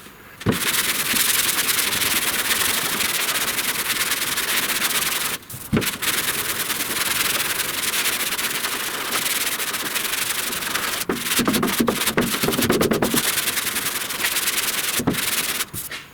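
Hand sanding guide coat on a 1969 Chevrolet C10 body panel, a steady, close abrasive rubbing that runs almost continuously with brief pauses between strokes and no voices.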